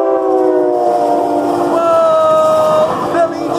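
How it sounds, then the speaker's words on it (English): A train rushes past in Philadelphia, its horn sounding in long tonal blasts over the rumble of the cars, loud and close, with excited voices reacting around it. "There is a train coming."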